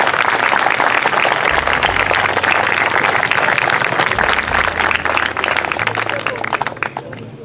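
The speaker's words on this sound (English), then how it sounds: "let's give all of these men and women and our fellow students a round of applause for this scene" A crowd applauds students and performers after a scene at a school event, dense continuous clapping that fades slightly toward the end, with a low hum beneath.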